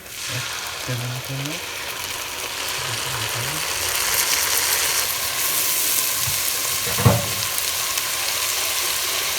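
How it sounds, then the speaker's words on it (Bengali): Onion paste frying in oil for Bengali ilish polao, a steady broadband sizzle that swells louder after a few seconds, with a sharp knock near the end and faint voices early on. "এখন আমরা দিয়ে দিচ্ছি পেঁয়াজ বাটা"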